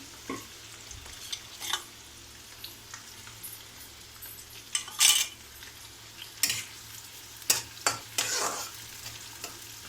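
Curry leaves fry with onions in a pan under a steady soft sizzle, broken by scattered clinks and scrapes of a stirring utensil against the metal, close by.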